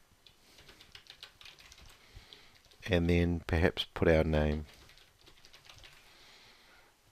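Light clicking from typing on a computer keyboard while entering a database table name, soft irregular taps heard faintly before and after someone speaks briefly in the middle.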